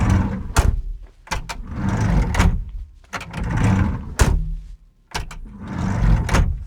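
The door of a Kubota SVL97-3 rubber-track skid steer's pressurized cab is swung and shut repeatedly, giving sharp latching thumps between stretches of hinge movement and rubbery sealing sounds, close and clear.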